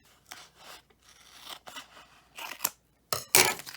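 Scissors trim a vinyl sheet left over from decorating a travel mug, giving a run of close, crisp snips and rasping cuts with short pauses, ending in louder, sharper strokes.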